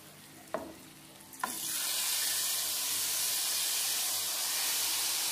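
Hot tempering (tadka) is poured into a pot of kadhi, with two sharp clicks of the pan followed by a loud, continuous sizzling hiss.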